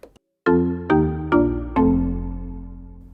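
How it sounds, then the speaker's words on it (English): Four mellow wooden mallet notes of a marimba voice on a Yamaha YC88 stage keyboard strike one after another, each ringing and fading, the last note left to decay. "Marimba."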